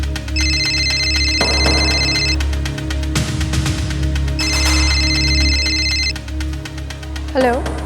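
A telephone rings in two bursts of bright, repeating electronic tones, separated by a brief gap with thumps and background noise.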